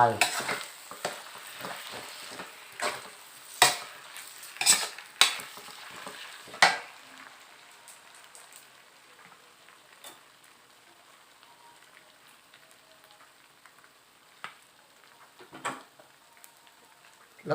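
Marinated pork stir-fried with soy sauce and oyster sauce in a hot pan, giving a steady sizzle broken by sharp scraping clatters of the spatula, busiest early on and then settling into a quieter fry with only the odd stir.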